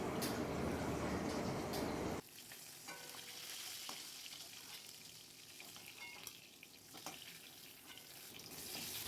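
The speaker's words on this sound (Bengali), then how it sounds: "এদিকে দেখো আমার মাছ ভাজা হয়ে গেছে" Fish frying in oil crackles softly and steadily at close range, following a brief louder rush of running water at the start, with occasional clinks of a spatula and no voices.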